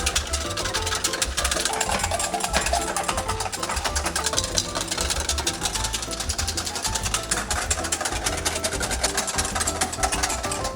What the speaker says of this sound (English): And now we're going to whisk. Using a double boiler.